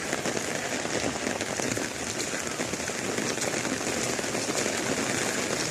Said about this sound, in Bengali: এখনো বৃষ্টি হয়ে যাচ্ছে